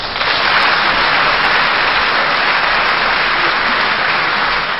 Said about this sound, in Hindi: जोरदार तालियां आए